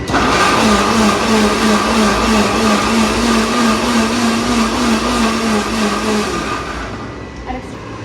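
A mixer grinder whirs loudly and steadily at close range while shahi paneer is prepared, a constant motor drone with a whining tone that winds down near the end.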